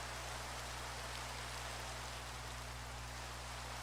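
Steady, dense rain in a video game, a constant close hiss of falling drops with no pauses and no voices.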